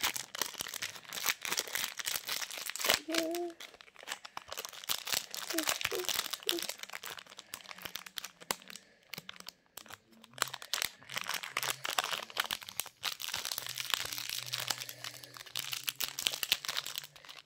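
A thin plastic bag crinkles and rustles in a close, continuous flurry of crackles while someone speaks intermittently over the handling.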